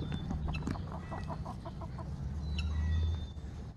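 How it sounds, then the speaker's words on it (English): Agitated chickens clucking in a barnyard, a rapid run of sharp, repeated clucks up close with a few higher squawks, fairly quiet overall. "Your chicken over there freaking out."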